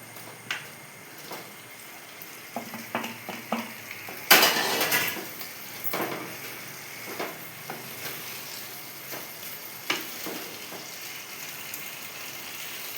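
Potatoes tip into a pan of yogurt-spiced gravy with a loud splash and burst of sizzling, then steady frying continues with spatula scrapes and clinks against the pan, close and without speech.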